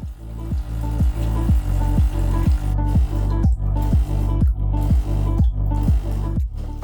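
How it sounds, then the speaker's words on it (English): An EM3801/HiBrew H21 espresso machine rinses after descaling, with water dripping and squirting in a steady rhythm of repeated pulses, close and fairly loud, with no voices. "The machine will start the second rinsing process to remove any remaining descaling solution."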